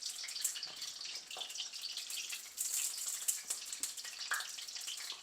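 Fresh brinjal (eggplant) pieces frying in hot oil for a salna, a steady close sizzle and crackle with brief bright pops throughout, no voices.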